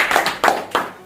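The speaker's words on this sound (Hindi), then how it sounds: "एक बार बहुत जोरदार ताली बजाएं इसके लिए।" An audience at a network marketing event clapping in three short, loud bursts close by, each fading quickly.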